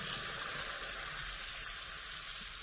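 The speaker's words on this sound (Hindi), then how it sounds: "डाल देते हैं पानी।" Water poured into a pan of cooked-down tomato gravy for a paneer curry, a steady broadband splashing hiss with low bubbling, close and continuous with no talking.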